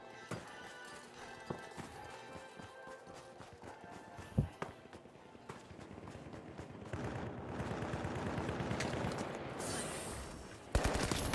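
Gunfire in the video game THE FINALS: sharp shots and bursts crack out irregularly amid footsteps and movement, building into denser, louder firing toward the end.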